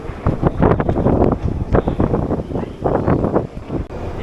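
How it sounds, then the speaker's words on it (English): Gusty wind blowing between moored boats, a loud continuous roar buffeting the microphone with surging rises and dips. "Just the wind just sort of zipping between the boats"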